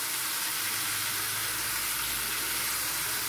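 Dried prawns and thinly sliced brinjal fry in a pan, giving a steady, close hiss of sizzling oil that runs evenly with no breaks and no talking.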